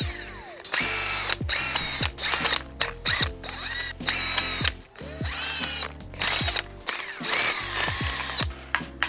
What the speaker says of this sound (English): now we can come with the electric gun just to zap them all out.